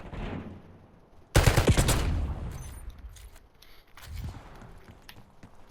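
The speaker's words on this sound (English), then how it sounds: "Enemy sniper shooting." Enemy sniper fire in a video game: one sharp, loud crack followed by a rumbling echo that tails off, then a fainter thud, with no talk over it.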